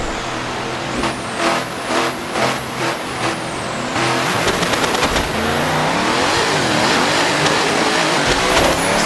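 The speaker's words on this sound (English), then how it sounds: "At least now I know I can launch the truck" A 3000 HP LSX turbo GMC Suburban truck in the Assetto Corsa racing game revs in rhythmic pulses, then launches into a loud sustained roar with a high rising whine, dense and close throughout.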